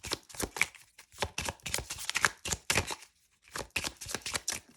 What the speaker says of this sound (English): just making sure to hold the cards properly whilst I'm shuffling